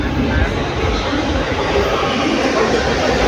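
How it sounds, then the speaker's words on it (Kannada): A steady loud rumble of a metro train arriving at MG Road station in Bengaluru, with a dense mechanical roar throughout and voices faintly mixed in. "ಮೆಟ್ರೋ ಬರ್ತಾ ಇದೆ ನೋಡಿ"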